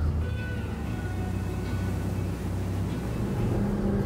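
Inboard engines on a Duckworth 30XL offshore fishing boat fitted with Sharrow propellers, running loud and steady with a deep rumbling drone and slight pitch wavering as the boat turns at speed, with no talk over it.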